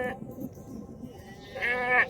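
Lambs at a busy livestock market give a loud, wavering bleat near the end, rising over a low murmur of crowd noise and faint voices.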